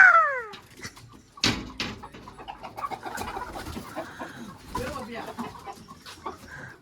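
Village chickens cluck and birds call in a busy outdoor setting in Konkan, with a brief sharp knock and scattered background activity throughout.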